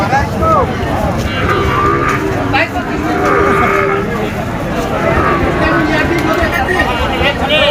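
A Friesian cow moos loudly and at length at a busy cattle market, its low calls rising over steady crowd chatter and people talking nearby.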